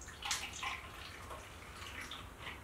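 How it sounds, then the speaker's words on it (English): Small pours of sanitizer water trickle and splash into glass home-brew beer bottles during bottling, soft close-up liquid sounds in a quiet room. "all we're going to do is just pour a little bit into each bottle"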